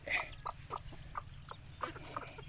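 Old laying hens give soft, scattered clucks, several short calls at a distance, faint over a low background hum.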